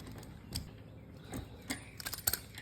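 A ratchet with an extender loosens a BMX peg bolt, giving small scattered metallic clicks and ticks with a quick burst of pawl clatter near the end, close and quiet.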